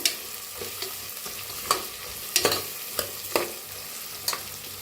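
Peanuts and soya chunks frying in a pressure cooker as a spoon stirs them, giving a steady low sizzle broken by a handful of scraping, clinking strokes against the metal, close by and at a moderate level.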